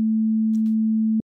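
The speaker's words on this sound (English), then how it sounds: "At 220 Hz, a sine sounds like this." A pure 220 Hz sine tone, steady and unwavering, holding at constant loudness for just over a second before cutting off abruptly, alone with no other sounds.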